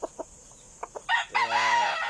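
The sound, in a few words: breeding gamecocks, rooster crowing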